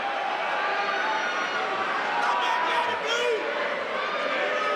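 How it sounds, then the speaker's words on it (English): Amateur boxing crowd at a fight night giving a steady, dense murmur of discontent, with scattered raised voices and whistles over the constant hubbub. "The crowd are not liking this"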